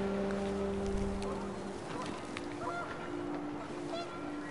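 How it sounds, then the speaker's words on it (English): Panicked geese honk in the video game What Remains of Edith Finch, with a few sustained honking calls at the start over windy ambient noise, then fainter scattered calls. "panicked geese appeared and quickly went"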